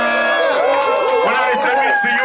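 A party crowd at a birthday celebration in a restaurant whoops and cheers loudly for the birthday lady, a dense, continuous wall of voices with overlapping shouts sustained throughout.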